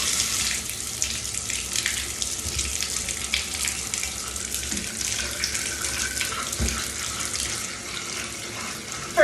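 Water runs steadily from a newly repaired Moen shower faucet after a cartridge replacement, a continuous hiss of spray sounding alone for about nine seconds with no talk.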